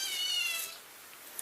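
A cat lets out a short, high meow, close and fairly quiet, fading into near silence.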